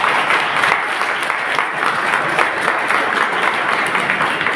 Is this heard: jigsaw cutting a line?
no